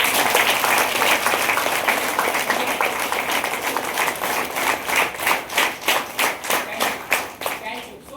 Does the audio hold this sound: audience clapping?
yes